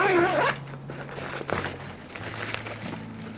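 Zipper on a Mystery Ranch Bridger trekking backpack being opened, a long folded straight zipper run in several close, rasping pulls, each a second or so, with faint handling noise between.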